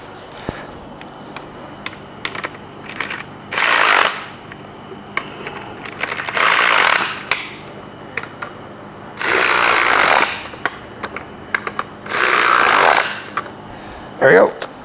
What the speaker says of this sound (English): Battery, ratchet, battery and ratchet.